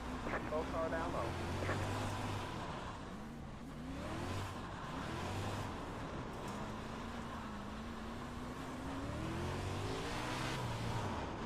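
Dirt sprint cars in a racing video game, engines droning and revving with pitch sweeps as cars run around the track, steady and fairly loud, with a voice talking over parts of it.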